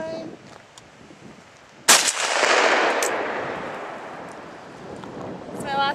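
A single loud gunshot fired at a pane of glass cracks sharply and trails into a long, fading rumble across the outdoor range, with faint voices before and after the shot.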